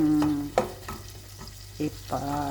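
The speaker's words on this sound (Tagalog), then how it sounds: "gigisa na nato ang atong mga lamas" Aromatics sautéing in a pan before chicken goes in, soft sizzling and stirring with a few scraping knocks from the utensil, close and fairly quiet.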